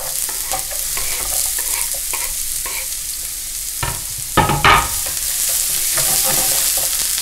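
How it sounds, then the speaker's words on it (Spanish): Finely chopped onion frying in a generous splash of extra virgin olive oil, a steady close sizzle with scraping stir strokes and a couple of louder clattering bursts midway, no talking. "Le añadiremos aceite virgen extra, un buen chorro, y empezaremos añadiendo la cebolla que hemos picado finamente,"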